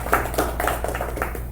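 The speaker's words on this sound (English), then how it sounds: "Round of applause, please" Audience clapping for Todd Pryor at a Queen Creek restoration workshop, a short, fairly close patter of hands without voices.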